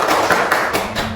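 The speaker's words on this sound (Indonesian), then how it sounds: "Tepuk tangan dulu" A classroom group claps together in a short burst of applause, brisk and close, lasting just over a second.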